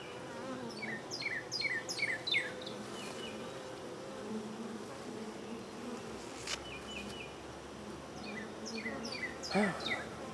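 Dense swarm of honey bees hums steadily around an open hive box, a continuous close buzz with individual bees zipping past, while a few birds chirp faintly in the background.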